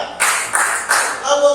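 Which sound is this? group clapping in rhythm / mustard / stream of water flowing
group clapping in rhythm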